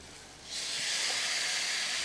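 Pork chops hit a hot Ninja Woodfire grill after flipping, a quiet hiss swelling into a loud, steady broadband sizzle that holds to the end.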